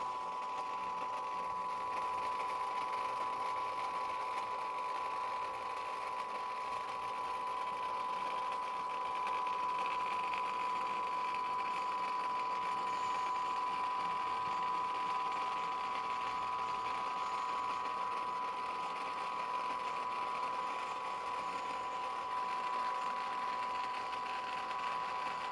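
Hy-Gain Ham IV antenna rotator motor turning counterclockwise, a steady continuous mechanical hum and whir with a strong tonal drone, running alone without pauses throughout.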